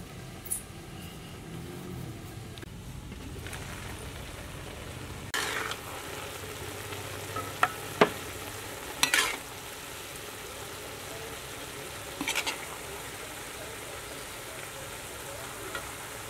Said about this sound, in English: I simmer it 5 minutes